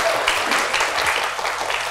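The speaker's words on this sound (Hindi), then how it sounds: "तालियां हो जाए जी" A short, lively burst of studio applause during a celebrity interview, brisk clapping lasting about two seconds at a steady level.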